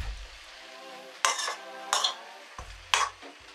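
A spoon scrapes and clinks against a metal pan while curd is stirred into aviyal mixed vegetable curry, three or four distinct strokes spaced about a second apart over a faint low rumble.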